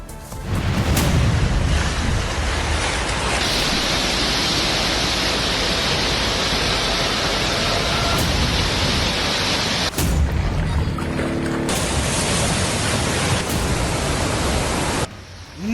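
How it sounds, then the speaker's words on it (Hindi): Rushing floodwater and a waterfall pour in a continuous loud, broadband roar that holds steady throughout, with a few brief cuts and shifts in texture. "नदियों की उफनती लहरें, झरने का तेज बहाव"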